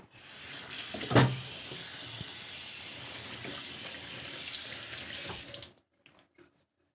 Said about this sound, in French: Je rince juste la planche, là.